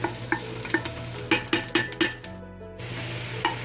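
Red lentils and bone-in meat cooking in a pot after onions with cardamom, black pepper and bay leaves; a spoon scrapes and knocks rhythmically against the pot over a continuous close sizzle.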